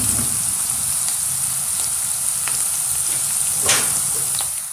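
Mustard seeds and chopped potatoes frying in two to three tablespoons of hot oil for an aachari potato samosa filling, giving a steady close sizzle with scattered pops and crackles throughout and no talking.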